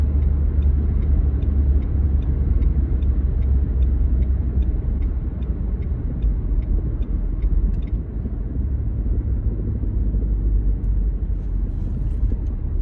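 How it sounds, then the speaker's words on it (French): Car accelerating on a 90 km/h road during a driving lesson, a steady low engine and road rumble that holds constant and loud throughout, with a faint repeating tick above it and no talk. "On n'hésite pas à dynamiser sa conduite, on accélère."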